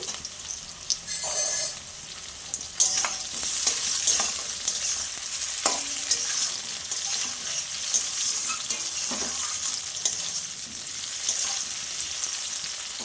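Chopped tomatoes fry alongside browned onions in a pan, a loud, steady sizzle broken by repeated stirring scrapes and knocks of a spoon; close and continuous, with no voices.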